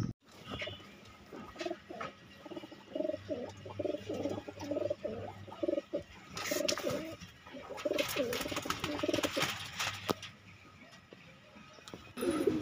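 Kanpuriya Nisawara pigeons coo close by in repeated soft, throaty phrases, with some light ticking and rustling, and a few brief louder knocks later.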